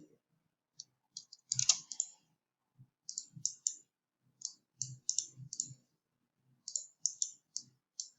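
Computer mouse and keyboard clicks come in quick irregular bursts, close and crisp, separated by short silent gaps, with soft thumps mixed in.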